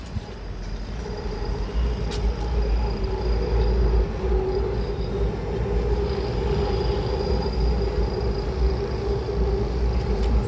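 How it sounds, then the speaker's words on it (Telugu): Passing train with a steady, moderately loud rumble and a sustained low hum that builds over the first few seconds and then holds, with no voices over it. "ట్రైన్ వచ్చింది"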